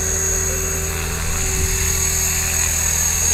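A Trex 500 RC helicopter on its first flight, a steady, loud high-pitched whine of rotor and motor held close and constant throughout, with no talk.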